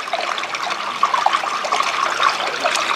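Spring water runs out of a pipe in the Bielatal valley of the Elbe Sandstone Mountains, a close, steady trickle and splash that keeps going without a break.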